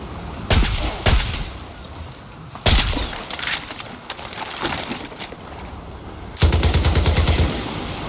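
Bursts of video game gunfire from Far Cry 6 aimed at sharks in the water, loud close volleys of rapid shots in three main clusters with a final sustained burst, no talking.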